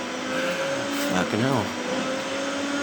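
A car engine drones steadily during a race in GTA Online, with a brief swooping pitch bend partway through, and a man swears over it.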